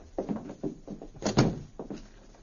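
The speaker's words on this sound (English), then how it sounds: "After locking the door" A hotel room door being handled and locked as a radio drama effect: a run of soft knocks and rattles building to a heavier central thunk of the latch, close and dry.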